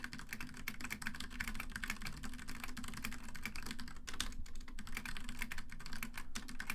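Fast continuous typing on a computer keyboard, a dense stream of close, crisp key clicks at a rapid steady rhythm that carries on for several seconds without pause.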